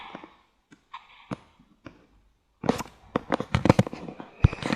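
Bombs explode in the video game Memes Wars: a few soft pops and clicks, a short pause, then a loud rapid burst of crackling blasts like firecrackers that carries on to the end.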